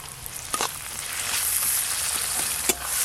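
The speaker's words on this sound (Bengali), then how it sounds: "এবার সব মশলাগুলো একসঙ্গে একটু সময় নিয়ে খুব ভালো করে কষে নেব।" Onions with ginger-garlic paste, chilli paste and turmeric sizzle loudly in a pan, a dense continuous hiss broken by a couple of sharp stirring clinks, with no speech.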